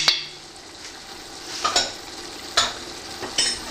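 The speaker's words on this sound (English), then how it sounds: "stirring the pot well with the spices" A spoon stirs meat curry with spices in a pot, with a handful of scraping strokes over a steady frying sizzle, close by and with no voices.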